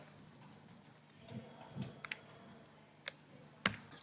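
A few sharp, quiet computer mouse clicks sound as isolated ticks over a faint low hum, spaced irregularly, with the last one the loudest.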